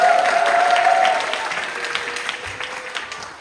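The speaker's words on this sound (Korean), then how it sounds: "박수 부탁드립니다." Loud, dense applause from a church congregation after a men's cell group Christmas worship performance, holding strong and then easing slightly while continuing to the end.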